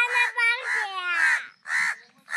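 A crow caws several times in quick succession outdoors while fig fruit is being picked for a vegetable dish; the harsh calls are loud and close, with short pauses between bursts.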